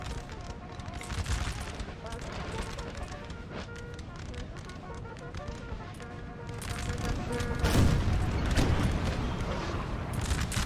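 Artillery and massed musket fire in a Napoleon: Total War multiplayer battle between Russian and French armies: rolling, crackling volleys and booming shots blend into a dense, continuous battle din, swelling louder toward the end, with talk over it.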